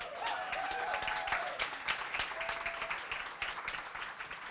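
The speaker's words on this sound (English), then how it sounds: "I think that's worthy of some applause." Audience applause at the grand opening of the Rock and Roll Hall of Fame, a steady wash of many hands clapping at a fairly even level throughout, with a few faint voices mixed in.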